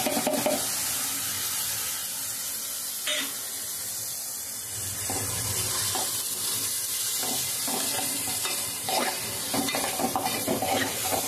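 Pre-cooked dal lentils frying in a pan, a loud continuous sizzle with scraping stirring strokes and occasional spoon knocks, close up, no talk.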